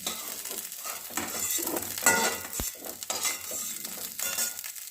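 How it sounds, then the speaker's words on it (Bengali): Cauliflower pieces fry in a pan, with a continuous close sizzle under frequent stirring scrapes and one sharp knock of a utensil against the pan. "ভালো করে ভেজে দিচ্ছি পাঁচ মিনিট ধরে"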